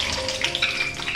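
Peanuts fry in a hot tempering of cumin and mustard seeds in oil for Nagpuri tarri poha, giving a close, continuous crackling sizzle with small bursts and pops.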